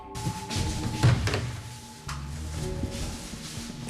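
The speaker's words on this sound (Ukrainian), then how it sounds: "Буквально перед носом закрили двері." A door is pulled shut in a hospital ward corridor, giving a few dull thuds and knocks at moderate distance over a steady room hum, with no talking.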